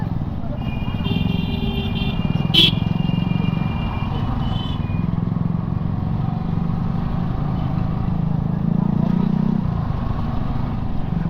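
A motorcycle rides along a rural road bridge route in northern Bangladesh, its engine a steady, close drone throughout, with a brief high horn-like tone near the start.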